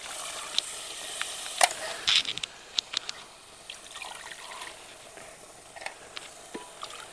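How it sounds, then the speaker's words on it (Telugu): Water goes into a pot of mutton curry gravy being made to serve with ragi mudda: a soft, intermittent trickle and splash with small clinks, fairly faint and close. "ఇంకా ఇప్పుడు వాటర్ మనం గ్రేవీ కావాలి కదా, నీళ్ళు వేసుకొని పోసుకుందాం"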